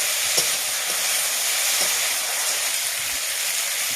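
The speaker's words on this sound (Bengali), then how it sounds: "মশলার সঙ্গে মাছটা ভালোভাবে মাখিয়ে নিতে হবে।" Fried moorola fish being worked into a mustard-style spice paste in a hot pan, giving a steady close sizzle with soft scraping and stirring strokes throughout, no voices.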